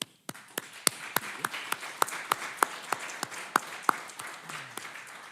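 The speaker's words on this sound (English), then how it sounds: "We give you an applause." Sparse, scattered applause from a small audience after a trial lecture at a doctoral defence, individual claps spaced irregularly and fairly faint in a quiet room.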